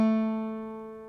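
Three guitar strings ring together in a one-finger beginner chord, a single sustained strum decaying smoothly over about a second.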